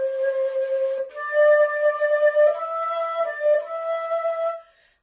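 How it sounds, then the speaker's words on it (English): A flute sounded by blowing across its mouthpiece, playing a sustained melodic line of breathy, pure tones with clear harmonics, moving through a few steady notes at close range before fading out. "And you blow across it to make a sound like this."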